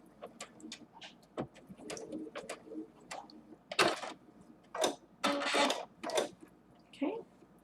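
Bursts of a sewing machine stitching a fabric mask, quick rattling runs of varying length, including short back-stitch passes, separated by pauses, fairly quiet and close.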